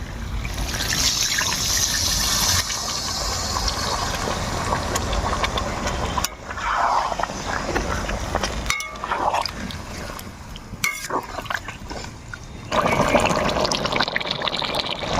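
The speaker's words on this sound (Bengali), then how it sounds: "এবার পরিমাণ মতন জল দিয়ে দেবো।" Water is poured into a pan of magur fish in mustard gravy during cooking, with a splashing, rushing pour that comes in several bursts close up over a steady background hum.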